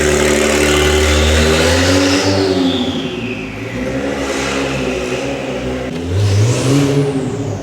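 A twin-turbo Acura NSX engine revs and roars while driving on a mountain road home, with loud rising and falling sweeps of engine pitch and a strong turbo whoosh, close and sustained with no talking.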